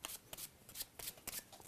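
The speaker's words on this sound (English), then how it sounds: "That is good shuffling." A half deck of playing cards is riffled and mixed by hand during a magic performance, giving quick bursts of crisp flutter separated by short pauses, close and fairly soft.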